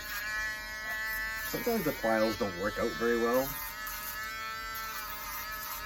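Steady high-pitched whine of a Dremel rotary tool running on a 3D-printed part for a Hellboy gun prop, continuous throughout while someone talks over it.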